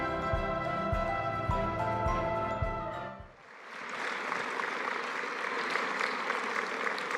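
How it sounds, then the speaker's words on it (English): Audience applause fills a hall at the Imagine Awards in New York City, following music that cuts off abruptly; steady, loud, broadband clapping continues without a break to the end. "let's give him a big round of applause"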